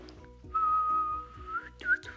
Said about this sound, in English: Waiting for Rez, whistling